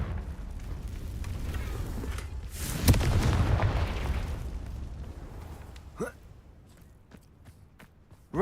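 A Confringo explosive spell cast in Hogwarts Legacy, a loud booming blast with a sharp crack near three seconds, a rumbling tail fading afterward, then a few brief sharp hits, with game ambience throughout.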